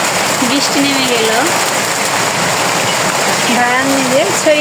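Steady rain pours down in a rural Bengal village after a stormy night, a dense continuous hiss throughout, with a voice talking faintly over it.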